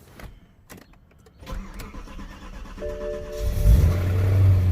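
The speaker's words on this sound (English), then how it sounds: "So let's get you guys a cold start, and also the first cold start with the Alpine MS tune." A BMW E92 M3 with an Alpine MS tune and ACM muffler cold starts: a few clicks and the starter crank, then the engine catches and rises into a loud, growling high idle.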